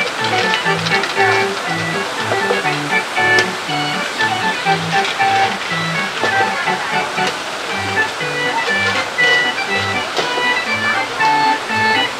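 Water cascading through a hydraulic water feature in Adventureland at Disneyland Paris, a steady broadband rush and splash with pulsing low churning beneath, continuous throughout.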